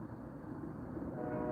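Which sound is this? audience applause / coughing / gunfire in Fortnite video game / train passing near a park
train passing near a park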